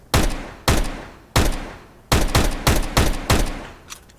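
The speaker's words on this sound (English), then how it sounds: "I actually really like the sound of this gun." Pistol gunshots in Counter-Strike: Global Offensive: eight loud, sharp, close reports fired in an uneven rhythm, each followed by a short decaying tail, with a faint trailing shot at the end and no talking.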